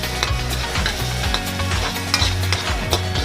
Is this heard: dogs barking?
no